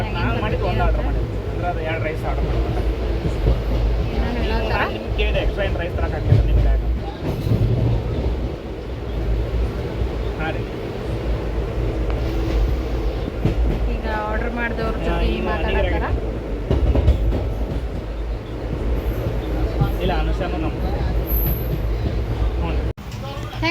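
Inside a moving passenger train there is a steady rumble and rail clatter throughout, with people talking and chattering over the continuous noise.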